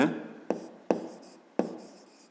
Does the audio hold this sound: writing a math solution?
yes